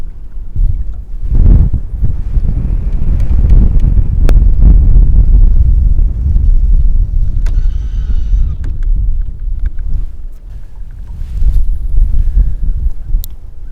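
Strong wind outdoors on a winter ice-fishing trip buffets the microphone in heavy, rumbling gusts that rise and fall throughout, with no talking.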